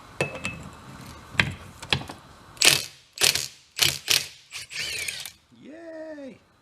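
Close ratchet clicks and a metric 6-point socket on stuck hardware of an old abandoned boat, a run of short clicks followed by bursts of harsher grinding scrapes and a brief voice at the end.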